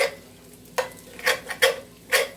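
Potatoes frying in an iron skillet, with a low sizzle underneath and several sharp scraping stirs of a utensil against the pan, close by.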